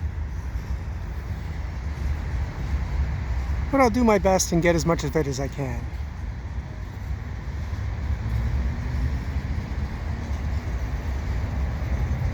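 A CN freight train rumbles past, a low, continuous rolling roar that holds steady throughout, while someone talks briefly over it near the start.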